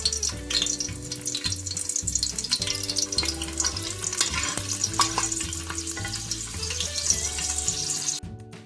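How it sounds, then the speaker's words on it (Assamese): Loud sizzling of garlic cloves frying in hot oil with stirring scrapes, under a prominent background of tonal music; no one speaks. "তেলখিনি গৰম হোৱাৰ পাছতে মই নহৰু কেইফুটাও দি দিছোঁ।"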